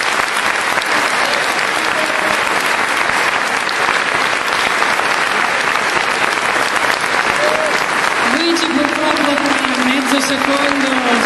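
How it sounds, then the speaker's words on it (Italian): A crowd at an Italian political campaign event applauds loudly and steadily. Near the end a voice rises briefly over the sustained clapping. "per questo gli farei un applauso"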